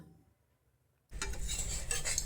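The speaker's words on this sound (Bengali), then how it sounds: "আমি বাটারটা পুরো ব্রেডের গায়ে লাগিয়ে দিলাম খুব কড়কড়ে করে করে ভাজতে হবে" Buttered bread frying in a pan until crisp: after about a second of near silence, a steady, close, dense sizzle starts abruptly and keeps going to the end.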